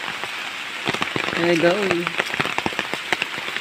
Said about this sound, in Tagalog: ang bilis ng ulan dito sa amin. Lakas-lakas talaga mga idol, saka malalaki mga ulan dito.